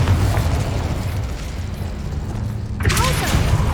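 The Incendio fire spell is cast in Hogwarts Legacy with a loud, continuous roaring burst of flame. A fresh whooshing flare swells near the end.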